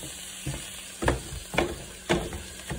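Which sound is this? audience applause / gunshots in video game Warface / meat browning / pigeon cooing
meat browning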